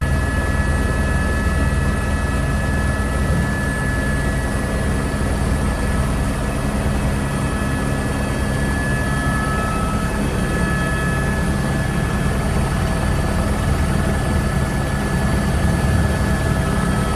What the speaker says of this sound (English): This helicopter pilot is filming a high-speed chase for an upcoming movie.